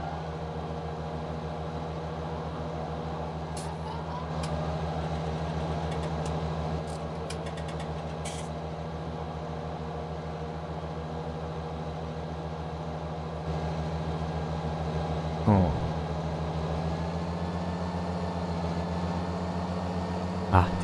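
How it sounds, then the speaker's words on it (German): A 241-horsepower Unimog truck engine in the farming game Landwirtschafts-Simulator 19 runs at a steady drone around 1800 rpm, with a constant low hum held for the whole stretch and a brief rising whine near the end. "Der Motor auf 1800 Umdrehungen läuft. Das ist ein schöner Sound."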